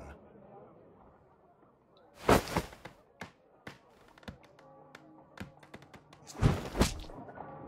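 A harpoon thrown in Sherlock Holmes: Crimes and Punishments strikes a wall with a sharp, hard thud, followed by scattered taps and knocks and a second loud impact, with speech underneath.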